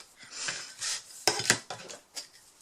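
Excess paper is trimmed off a scrapbook album page, making a quiet, close series of crisp cutting snips and papery rasps in uneven bursts, with no talking.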